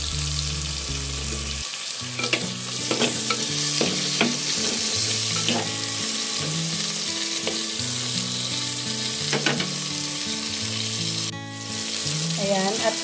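Chopped tomatoes sizzle and fry steadily in a pan for a Filipino home-cooked dish, with close, continuous crackling and occasional stirring clatter throughout, plus faint background music.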